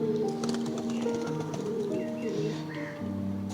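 Breeding pairs of fancy pigeons, including Volga Tumblers sitting on eggs, coo softly at a pigeon farm in West Bengal, with overlapping low, throaty calls repeating close by and no talk.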